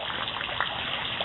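Running water from a fountain, a steady even splash and trickle heard close up and alone, with one brief brighter splash midway.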